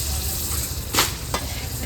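Mutton sizzles and crackles in a pot over a wood-fired clay stove, with steady frying noise and a couple of brief louder stirring scrapes near the middle.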